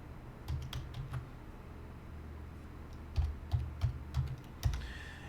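Numbers are typed on a computer keyboard in short bursts of close, crisp keystrokes with brief pauses between groups, over a quiet room background and no talking.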